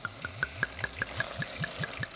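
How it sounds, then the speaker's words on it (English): Cheap white wine glugs quickly from a bottle into a soup pot of French onion soup, a fast even series of hollow gulps lasting about two seconds. "we're gonna add a little bit of white wine."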